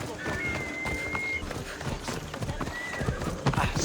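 Hoofbeats of a horse galloping in Assassin's Creed Odyssey pound steadily throughout, close and busy, with a couple of sustained whistle-like tones and a voice speaking over the riding.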